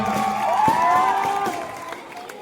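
A festive crowd at a college decoration-day event cheers and claps for students from each department, a loud sustained roar with whoops and applause that swells and then slowly tapers off.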